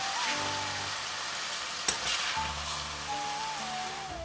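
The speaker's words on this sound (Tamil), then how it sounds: "அதுக்கப்புறம் நம்ம க்ளீன் பண்ணி வச்சுருக்க சிக்கன் எல்லாத்தையும் ஆட் பண்ணிவிட்டு நல்லா வதக்கிக்கோங்க" Chicken frying with ginger garlic paste and dried chillies in a pan, a steady close sizzle with one sharp clatter partway through, alone without talk.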